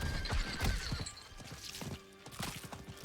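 Horse neighing and clip-clopping hoofbeats as a mount is summoned in Diablo 4, a loud whinny early followed by a steady run of close hoof clops under game ambience.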